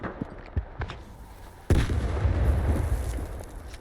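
A shotgun fires in the Stalker 2 video game: a few faint pops, then one loud, close blast that rolls off into a long, rumbling decay with no talking.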